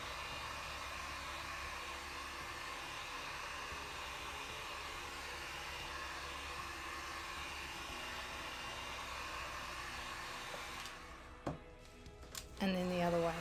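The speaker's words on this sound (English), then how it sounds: "I started pushing the white with the heat gun" A heat gun blows steadily on resin, a faint constant rushing hiss that runs for most of the stretch before cutting out, followed by a few soft knocks and a short burst of closer noise.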